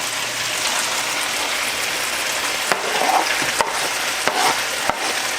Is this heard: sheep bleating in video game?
no